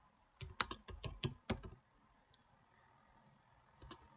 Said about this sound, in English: Just type git clone